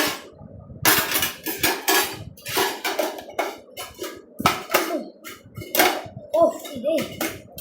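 A spoon is handled among back-to-school shopping items, giving scattered metallic clinks and clatters in irregular bursts while people talk close by.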